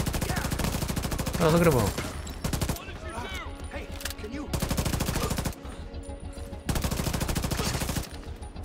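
Automatic gunfire in The Division 2 video game, bursts of rapid shots repeating in sections under brief talk.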